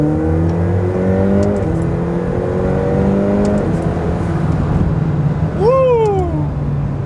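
A McLaren 720S pulls hard in third gear, its engine note climbing loud and close, then dropping at two quick shifts. A whooping voice rises and falls near the end.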